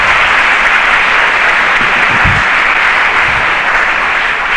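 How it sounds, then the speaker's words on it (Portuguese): Congregation clapping together at an assembly, a dense, steady wash of applause that stays loud and even from start to finish with no voices standing out. "Mais uma salva de palmas, porque Jesus Cristo ressuscitou."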